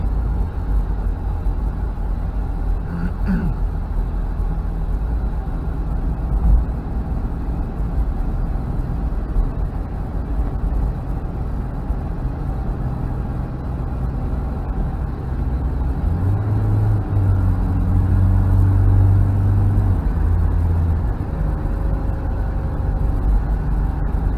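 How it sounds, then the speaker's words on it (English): A 1991 Toyota Land Cruiser Prado is driving, with a steady low engine and road rumble held throughout and a brief rise in engine tone near the end. "Pretty good driving Land Cruiser."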